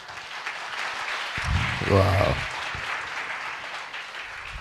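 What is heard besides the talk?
audience applause in church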